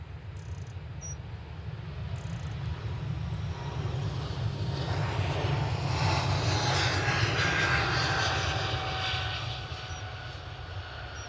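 A Lufthansa Boeing 747 at Edinburgh Airport produces a steady low engine rumble that swells gradually to a peak and eases off, with faint whining tones on top and no talking.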